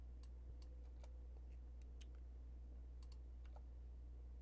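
Keys clicking at a computer keyboard, faint and sparse, scattered taps over a steady low electrical hum.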